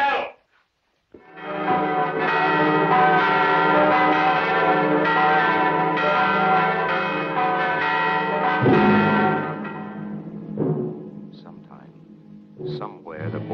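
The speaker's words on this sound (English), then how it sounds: "Now is the time to ring the bell." A church bell in a Wild West film setting rings out loud and sustained, its ringing tone holding for about eight seconds before fading, with brief sharper sounds following.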